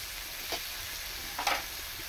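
Potatoes drop into hot spiced oil for a Bengali dinner dish, setting off soft sizzling with two brief bursts of frying over a steady low hiss, close by.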